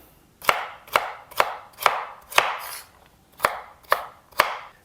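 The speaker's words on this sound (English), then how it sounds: "We're gonna cube up the celery, nice and small." Knife chopping celery and carrot into small cubes on a board: nine crisp, evenly spaced cuts at a steady rhythm, close and clear with no talking.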